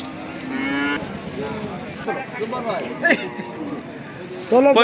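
Cattle moo several times, long drawn-out lowing calls close by, while people talk in the background at a cattle market.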